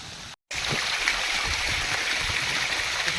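Irrigation water sprays down steadily over a village farm field in a continuous hissing, splashing wash that stays loud throughout, broken only by a brief cut near the start.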